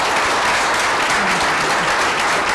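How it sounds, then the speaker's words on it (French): An audience at an LGBTQ+ newcomers panel gives the panelists a dense, steady round of applause, many hands clapping together at moderate loudness for a couple of seconds. "une bonne main d'applaudissements à nos panélistes"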